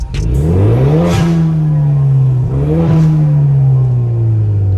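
Two loud throttle blips from a 2019 Ford Mustang EcoBoost with the exhaust set to its loudest track mode, each rev rising sharply and then falling back to a droning idle, recorded near the car.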